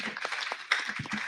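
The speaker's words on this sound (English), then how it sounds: "A round of applause for my panelists" Applause for panelists at a diaspora conference, a brief, light patter of clapping hands with a few sharper claps, fairly quiet and short.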